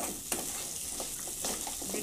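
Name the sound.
crab being stirred and fried in spiced masala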